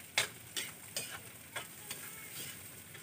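Hotdog pieces stirred and frying in a pan, with a series of soft spatula scrapes and clicks over a faint steady sizzle, close and fairly quiet.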